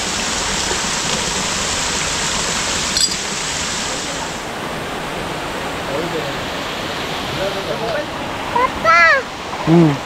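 A constant rush of falling water from a waterfall in Malvan fills the scene, loud and steady, and a voice briefly speaks near the end.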